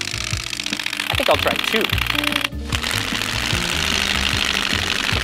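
A bicycle rigged to mimic a motorcycle gives off a rapid, rattling clatter like a small engine running, loud and close and steady, with a brief dropout midway; someone speaks briefly early on.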